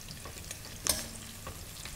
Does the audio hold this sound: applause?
no